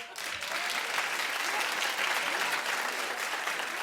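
Sustained applause from a talk-show studio audience, loud and even throughout, a thick wash of many hands clapping at once.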